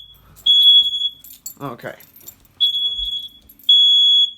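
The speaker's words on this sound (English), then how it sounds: "Just these smoke detectors here, we'll test them." Ceiling smoke detectors being tested in a building during fire alarm work, each one giving loud, piercing high-pitched beeps in three separate bursts, with a person briefly speaking and some jangling in between.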